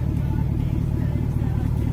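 A fifth-generation Cadillac Escalade V8 with its exhaust valve open gives a deep, steady rumbling burble, close and loud, holding an even idle-like drone throughout.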